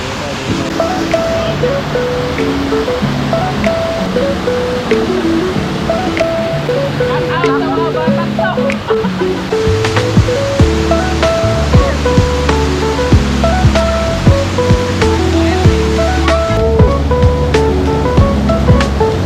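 Maganda Falls in San Jose del Monte, Bulacan, roars with a strong, continuous rush of flowing water, loud and close throughout while people talk over it.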